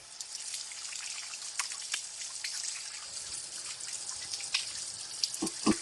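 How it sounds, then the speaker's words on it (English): Water from a kitchen tap runs over hands being washed during cooking, a faint steady trickle and patter with occasional drips and splashes, heard alone. "Let me wash my hands."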